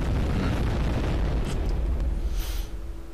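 Heavy rumbling explosions in the video game Shadow Warrior, a loud sustained boom that tails off slightly, with a sharp burst and a steady tone near the end.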